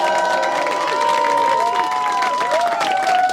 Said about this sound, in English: so you know we're about to start clapping